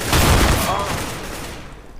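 Video game gunfire: a loud, close burst of rapid shots at the start that fades into a decaying echo over about two seconds.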